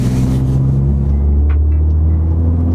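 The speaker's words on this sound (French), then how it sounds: "Parce qu'on est qu'à 2000 tours et je sens que ça résonne énormément" Peugeot 308 GTi engine droning at a steady low 2000 rpm from inside the car, a deep continuous resonant hum with no talk over it, the engine still cold.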